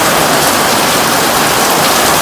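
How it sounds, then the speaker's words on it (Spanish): Heavy storm rain pours down in a dense, loud, unbroken hiss that fills the whole moment, with no voices. "Uy, mira cómo está lloviendo."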